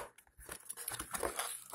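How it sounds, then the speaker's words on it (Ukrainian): Cardboard box of a Genius KB-110 keyboard being opened, with close crinkling, scraping and rustling of cardboard and plastic wrap in quick irregular bursts, no talk. "Так, відкриваємо коробочку."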